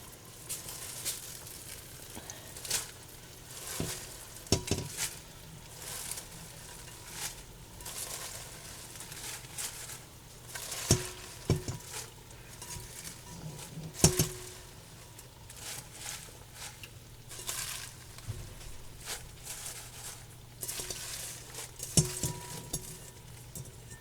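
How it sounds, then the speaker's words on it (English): Washed, chopped collard greens go into a pot at a high simmer and get stirred, with repeated soft rustling, scraping and utensil clinks against the pot over a low, steady background. "Now we're going to add our greens. They're all washed and chopped."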